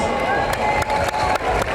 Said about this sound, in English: Can we just give them an applause?